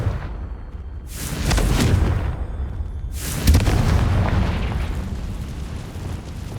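Two heavy booming blasts from the Confringo explosion spell in Hogwarts Legacy, each a sudden loud burst followed by a long rumbling decay, the second coming about two seconds after the first.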